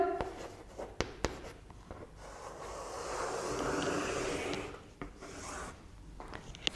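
A pen scratches across paper while a simplex table for a linear programming problem is written out: quiet, close, irregular strokes and scribbles with small taps, with no talking.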